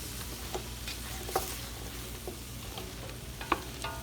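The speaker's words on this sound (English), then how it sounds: "So then I put all my seasonings and spices on top, and then I'm going to stir it all around" Green beans topped with seasonings and spices get stirred around in a pot, giving a soft, quiet scraping and shuffling with a faint sizzle underneath and a few light clicks against the pot.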